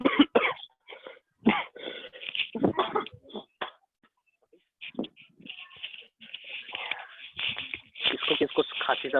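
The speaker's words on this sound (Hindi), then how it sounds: "किसको खांसी सर्दी हुआ है जी?" Several people cough and clear their throats in bursts, with talking mixed in and brief quiet pauses between.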